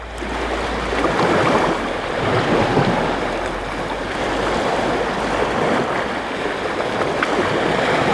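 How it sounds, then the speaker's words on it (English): Ocean waves and surf wash steadily around a fishing boat at sea during a national match fishing championship off Australia, a loud continuous roar with wind buffeting the microphone and no talk. "Waves are definitely a lot bigger today, aren't they?"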